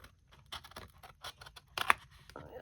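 Scissors trimming the edge of a coffee-dyed blank card, a run of small crisp snips close up with a sharper cut near the end, and a faint voice in the background.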